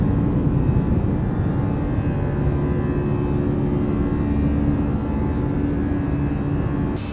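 Steady, loud, broadband roar of an Airbus A320's CFM jet engines in flight in Microsoft Flight Simulator, holding an even, unbroken drone throughout with no talking.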